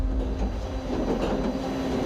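Roller coaster catch car driven along the launch track of the world's tallest coaster, a steady low mechanical rumble with a constant hum and faint rattling, close and continuous, no voices.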